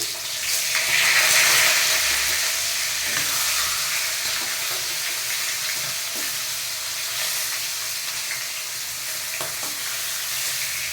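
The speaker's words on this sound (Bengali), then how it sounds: "মাছগুলো আমার ভাজা হয়ে গেছে" Fish pieces fry in oil with cumin in a pan, producing a steady, loud sizzling hiss with occasional stirring knocks, continuous from start to finish.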